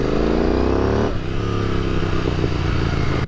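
A Royal Enfield Continental GT 650 twin motorcycle idles and revs close by after sitting unused for two months, a loud throbbing engine note that shifts pitch partway through, with some mechanical clatter.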